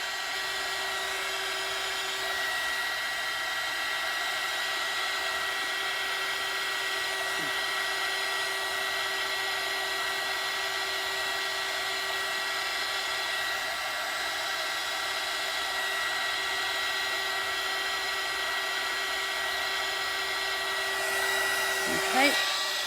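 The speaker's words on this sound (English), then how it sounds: "I'm just going to move this across with my heat gun" A heat gun blows with a steady, high whir, running continuously at an even level over poured paint, with a brief shift in pitch near the end.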